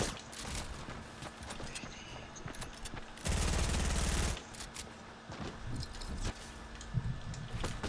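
Gunfire in the battle royale game Fortnite, quiet scattered shots and clatter with one loud dense rattling burst in the middle, surrounded by softer in-game footsteps and movement.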